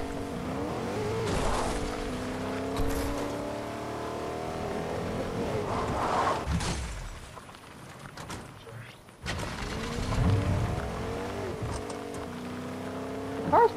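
A vehicle driving in Fortnite, its engine revving and shifting through rising and falling pitch, with tire noise and a short quiet gap before the motor roars back; someone speaks briefly.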